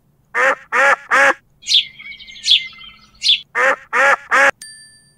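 A duck gives loud, close bursts of three quacks, then higher chirping bird calls, then two more sets of quacks, ending on a short ringing ding.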